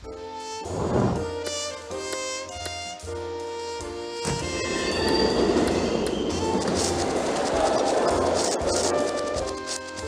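A train in the video game SimCity 3000 rumbles past with rhythmic clattering and metallic tones, the noise swelling into a broad steady roar midway.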